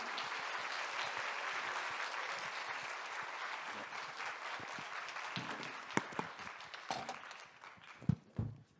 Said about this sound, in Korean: 귀한 발걸음 해주셔서 감사하다는 마음을 담아서 박수로 환영하겠습니다.